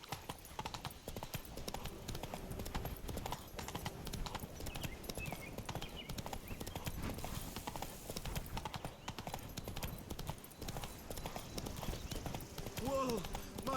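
Roach, a horse in The Witcher 3, gallops with rapid, steady hoofbeats that run throughout, faint and even, while character voices speak over the top.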